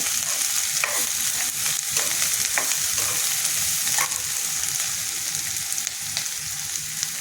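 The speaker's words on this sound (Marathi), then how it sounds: "कांदा परतून झाला की हे करटुले टाकू चिरलेले." Chopped spiny gourd and onions fry in a pan with a steady, loud sizzle. Close scraping and stirring knocks break through at intervals, and no one speaks.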